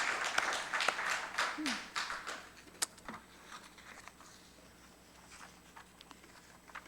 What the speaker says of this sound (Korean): 우리 하나님께 영광의 박수를 돌립니다.